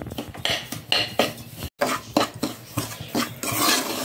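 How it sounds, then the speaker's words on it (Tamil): Semiya being dry-roasted in a pan until brown, with repeated scraping and clinking of a metal spoon against the pan in an irregular rhythm, close and fairly loud, with a short pause midway. "நல்லா உங்களுக்கு எவ்வளோ வறுக்க முடியுமோ வறுத்துக்கோங்க"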